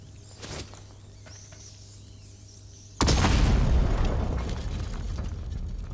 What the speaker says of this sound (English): Let's nail bomb them.